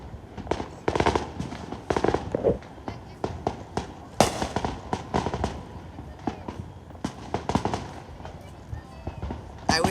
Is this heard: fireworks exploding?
yes